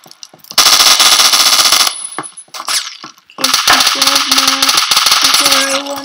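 Rapid bursts of MP5K submachine gun fire in a video game: a long loud burst, a pause with scattered shots, then sustained automatic fire mixed with game beeps and tones.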